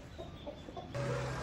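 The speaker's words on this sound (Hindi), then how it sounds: "मुर्गा मुर्गी भी आ गए।" A rooster and hens cluck softly in a few short bursts, then a louder sustained call rises near the end, close by with faint background noise.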